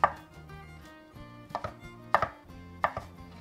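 A knife roughly chopping mushrooms on a cutting board, about six or seven sharp close thuds in irregular clusters over a low hum, with no voices.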